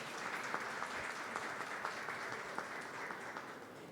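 An audience at a women's community event applauds, giving steady, moderately loud clapping that sustains evenly for a few seconds with no talk over it.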